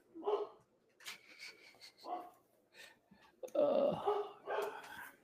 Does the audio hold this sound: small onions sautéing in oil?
no